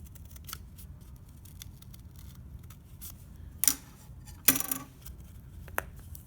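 Scissors cutting paper shapes, a few sharp close snips with crisp metallic clicks spread over several seconds against a faint background hum, no talk.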